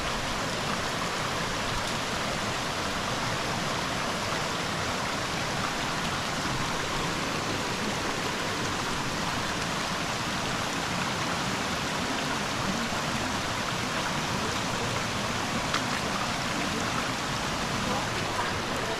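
Small forest waterfall pours in a steady, even rush, joined by a light drizzle of rain; the broad wash stays constant and fairly close with no talking.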